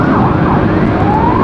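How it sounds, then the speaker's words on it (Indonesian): A loud ambulance siren wails close by over the low rumble of road traffic in Bandung, with no talking. "Ambulan."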